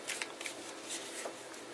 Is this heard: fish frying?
no